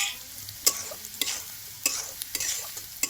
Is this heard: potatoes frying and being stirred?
yes